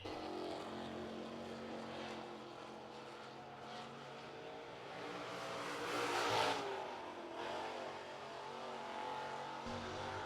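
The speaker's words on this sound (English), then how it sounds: "Here comes Isaiah Parker, opening lap for Parker, 4th fastest for the 15 machine" Renegade Sportsman race car on a qualifying lap at Cherokee Speedway, its loud engine roaring steadily and swelling as it passes close by on the track.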